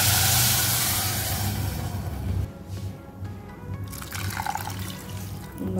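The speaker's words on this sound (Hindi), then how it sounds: "हुण असीं इहदे विच जिहड़ा है 2 कटोरियां दुध दियां ऐड करांगे" Milk pours into a pot for date kheer, a close liquid splash and trickle that is loudest at first, then eases into a quieter, uneven pour.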